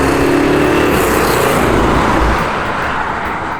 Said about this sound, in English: I wanna get in this car and drive it some more